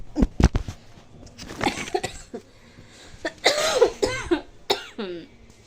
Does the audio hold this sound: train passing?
no